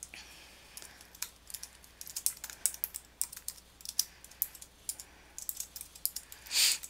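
Keys clack on a computer keyboard as a street address is typed in, quick irregular bursts of crisp taps with short pauses, close and clear in a quiet room.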